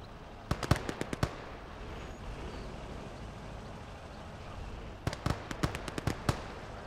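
Gates of Hell battle with two bursts of sharp, crackling gunshots, a quick cluster of shots early and another near the end, over a low rumbling ambience.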